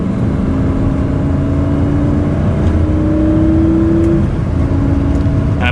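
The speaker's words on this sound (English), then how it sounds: "It's not necessarily the loudest exhaust, or the loudest drivetrain or engine even, but it has a great sound." A Lamborghini Gallardo drives along with a steady mechanical engine and exhaust drone heard from inside the cabin. The engine rises slightly in pitch midway, with constant road and wind noise underneath.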